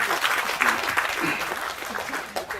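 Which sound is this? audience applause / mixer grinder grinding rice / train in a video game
audience applause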